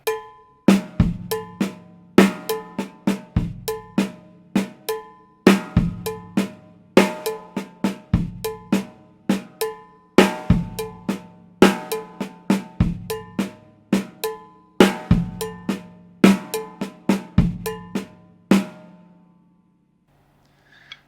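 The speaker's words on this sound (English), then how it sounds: "So it should sound something like this, playing the light bass drum tumbao." A drum kit plays a steady, repeating songo groove, with soft bass drum tumbao thumps under bright, clicking cowbell-like hits, with no other sounds.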